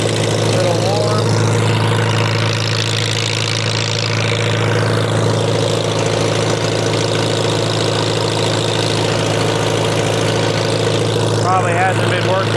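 A tractor engine runs on a dyno, holding a loud, steady idle with a deep droning hum throughout, while someone talks over it.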